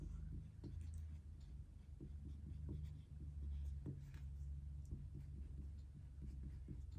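A pen scratches out notes on paper, soft irregular strokes and taps close by and faint, with a low background hum beneath.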